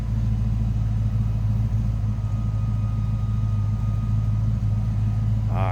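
A 1991 Ford Mustang LX convertible with its 5.0 V8 idling close by, a steady deep rumble holding level throughout, with a brief voice surfacing at the very end.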